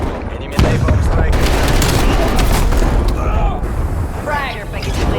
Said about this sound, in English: Enemy napalm strike.